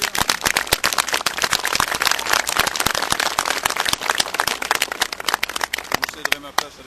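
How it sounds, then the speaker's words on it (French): A crowd applauds at a gathering, with dense, loud, steady clapping throughout that thins slightly toward the end. "oui, on peut l'applaudir."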